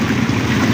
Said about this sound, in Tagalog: yung pinakaalon niya tatama sa atin, lalo na kung papunta sa atin papunta dito yung sasakyan